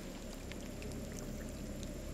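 Steady flowing water in the dark exploration game Scanner Sombre, a continuous low wash with faint splashy flecks above it, even and unbroken throughout.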